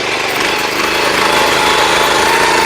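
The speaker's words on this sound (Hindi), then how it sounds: "और आपको एक चीज और दिखाऊंगा चौधरी साहब, इसकी इजी टर्निंग जी, वहीं की वहीं छोटे से एरिया में इसको घुमा दूंगा" Power tiller with a strong engine turning in place in a small field area, a loud continuous rattling, chugging drone with steady intensity and dense mechanical clatter throughout.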